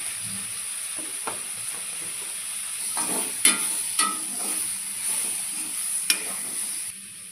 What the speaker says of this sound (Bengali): এরপর একটু মিষ্টি দিয়ে আবার ভালো করে কষিয়ে নেওয়া হবে।